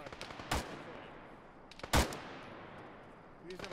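Gunfire in a military video game sounds in two sharp bursts about a second and a half apart, over a low background of distant shots and faint murmuring.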